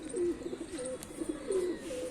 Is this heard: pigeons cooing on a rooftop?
yes